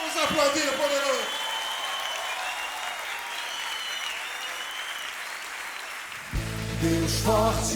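A church congregation applauds during a worship service, a steady wash of clapping that follows a brief spoken voice and continues for several seconds before music comes in at the end.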